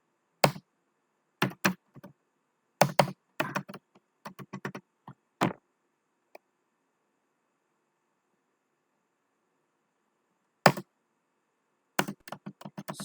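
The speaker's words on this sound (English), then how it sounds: "So I'm just typing host servers." Typing on a computer keyboard while entering commands for a remote server, with short bursts of crisp clicking keystrokes separated by quiet pauses, close and alone.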